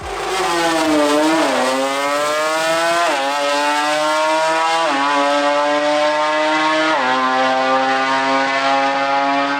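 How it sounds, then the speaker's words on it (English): A Toyota Starlet race car makes a dragstrip run. Its engine screams loud and close, climbing hard through several gears, each with a sharp dip at the shift, for the whole run. "It's a Toyota Starlet. And it was hard not to watch that car do its thing."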